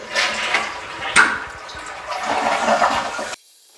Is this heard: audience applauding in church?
no